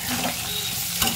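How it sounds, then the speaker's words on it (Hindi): Onion and garlic frying in hot oil with cumin and dried red chillies, giving a loud, dense, close sizzle with stirring, continuous for a brief moment. "लहसुन भी डाल देते हैं इसमें"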